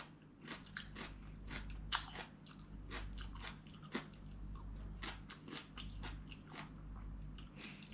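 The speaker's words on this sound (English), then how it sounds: "See, when you bite to it, you hear that crunch." Close bites and chewing of crunchy stir-fried chayote with egg, a soft series of repeated crisp crunches over faint background hum.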